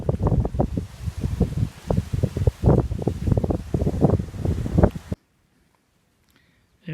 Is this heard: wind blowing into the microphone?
yes